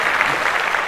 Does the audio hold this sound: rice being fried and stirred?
no